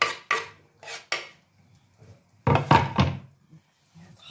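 Borscht is stirred in a pot, with a series of close clanks and knocks of a utensil against the pot's sides coming in short bursts separated by pauses, no speech.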